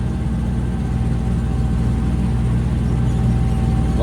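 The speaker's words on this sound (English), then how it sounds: "here I can hear the tractor starting to struggle" A tractor engine labours while mowing silage on a slope, a loud steady low drone with a constant hum and no clear rise in revs or change in pitch.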